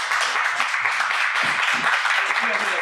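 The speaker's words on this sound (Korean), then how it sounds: "오늘 수고해 주신 두 분 한번 우리 박수 치면서 좀 마쳤으면 좋겠습니다." Audience applause for two lecturers at the close of a preachers' talk session, a steady dense patter of many hands clapping throughout with faint low thumps beneath.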